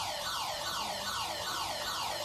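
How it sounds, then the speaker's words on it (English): A match-ending siren at a men's open touch football game wails in repeated rising and falling sweeps, steady and moderately loud with no talk over it. "the siren sounds in the background, and that's all she wrote here in this men's opens game"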